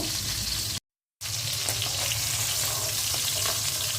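Ail fish fries in hot oil in a pan, giving a steady, close, busy crackle and hiss that briefly cuts out to silence before resuming.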